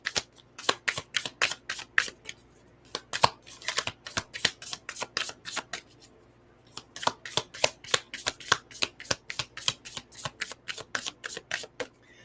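Tarot cards are riffled and shuffled by hand in quick rhythmic bursts of crisp flutters, close and clear, with a short pause midway before the shuffling resumes.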